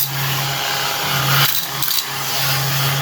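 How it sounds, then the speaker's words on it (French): A household vacuum cleaner runs close and steady with a loud, constant whine and hum, briefly shifting in pitch as it is moved across the floor. "on repasse encore un petit coup d'aspirateur"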